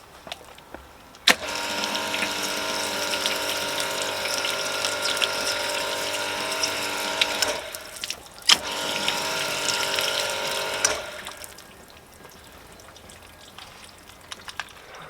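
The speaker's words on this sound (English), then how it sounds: "We'll flood the panel, see how they shift the water." Steady rushing water pours and splashes over a BMW M4 car body panel, continuing for several seconds, briefly pausing, then resuming before fading into quieter background.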